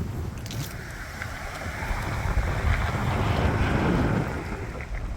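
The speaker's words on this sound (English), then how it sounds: "Here comes that wind." Strong wind gusting against the microphone on an outdoor walk, a continuous loud rushing roar that swells toward the middle and end of the clip.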